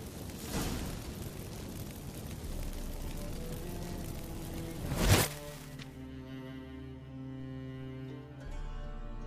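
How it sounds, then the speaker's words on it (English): Magic fireworks from activated incense in The Witcher 3, a crackling rushing blast that builds to a sharp bright burst, then gives way to a quieter tonal ringing hum. "Get ready for some magic fireworks. Once I activate the incense, we'll have a moment to talk."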